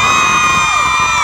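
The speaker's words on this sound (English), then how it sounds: "let me just hear you just screaming it out" A concert crowd of women screams and cheers loudly and continuously at a live rock show, a sustained high-pitched roar with no break.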